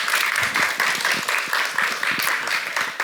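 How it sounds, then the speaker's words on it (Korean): Applause from a church lecture audience, a dense, steady patter of many hands clapping together for about three seconds without pause. "박수로 좀."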